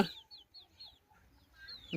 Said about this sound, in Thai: โอ้ยนี่แม่ไก่ของแมงเตอร์นะ ยังตัวน้อยอยู่